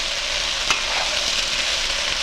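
A large batch of onions sizzles in a frying pan, a close, continuous crackling hiss with one sharp tap near the start and no voices.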